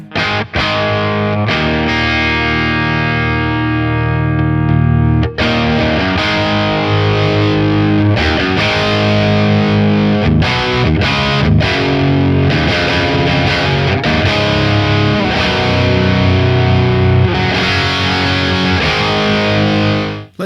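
Distorted electric guitar played through a Darkglass Hyper Luminal compressor in Fet mode, loud sustained chords and riffs with short pauses between phrases, no talking.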